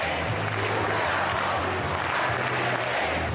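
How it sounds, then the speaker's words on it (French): A large political rally crowd cheers Carles Puigdemont as he appears on a screen, a dense continuous roar of voices and applause, loud and steady throughout. "La foule acclame celui qu'elle voit toujours comme son président"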